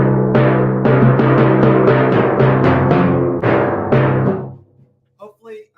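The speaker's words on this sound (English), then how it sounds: "It gets kind of this, I call it a barking sound because we're overplaying the drums and we're just not getting a full tone out of them." Overplayed drums in a percussion clinic demonstration, struck hard so they give a splatty, barking tone instead of a full one: a run of about a dozen sharp, evenly paced hits, loud and close, ringing out before a brief pause and a few soft sounds.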